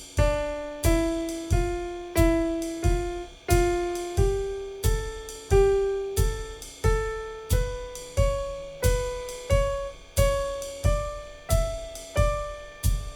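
A D melodic minor scale played on a plucked or struck instrument, moving in alternating groups of three and two notes, each sharp attack decaying quickly in an even, steady pulse with no voices.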